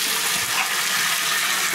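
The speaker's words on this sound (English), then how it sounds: "So, gotta pour it all in." A whole bottle of Rit dye gushes into a pot of water for dyeing sneakers, a loud, close, continuous splashing pour.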